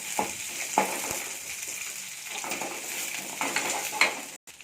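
Shallots and garlic sizzle softly in a pan during village-style outdoor cooking. A spoon scrapes and clinks against the pan now and then, close by, with no talking.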